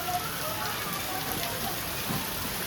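Heavy rain pours steadily during an outdoor rain bath on a road trip from Faridabad to Meerut, a dense continuous hiss of drops close by, with faint voices in the background.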